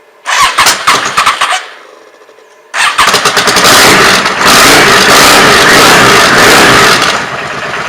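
A Yamaha Dragstar 650 motorcycle cranks loudly and briefly, goes quiet, then catches and fires up. Its engine runs close and strong, then settles slightly toward the end.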